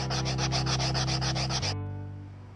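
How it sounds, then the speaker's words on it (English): Sandpaper, 100 then 220 grit, rubs rust off a tiny boat's metal keel in quick, steady back-and-forth strokes, about ten close rasping passes before stopping abruptly, leaving a low background hum. "First things first, some sandpaper. I use a little bit of 100 grit"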